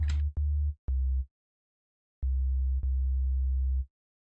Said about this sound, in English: So I have just a normal sine wave or sub.